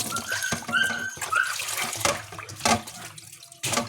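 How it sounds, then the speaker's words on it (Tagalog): Tap water runs while plates are washed in a sink, a close splashing stream with uneven spurts, clinks and brief drips and no voices. "nang hugasan ang ilang plato"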